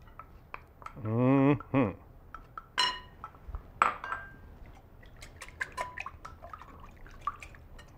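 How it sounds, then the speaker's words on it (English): Melted salted butter is poured into corn pudding batter in a short glugging pour, followed by light clinks of a spoon and dish. A brief murmured voice is heard. "we're gonna add 1/2 stick of salted butter that is melted"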